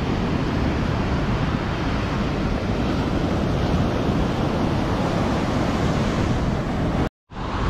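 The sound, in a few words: ocean waves at Nha Trang beach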